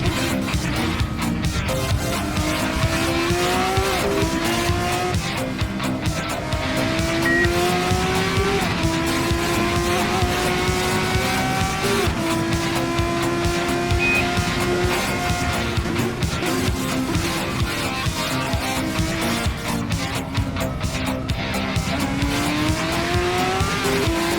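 Race car pushing hard through a full lap, engine screaming through rising gear pulls and repeated upshifts, tires squealing through corners, loud and continuous from onboard.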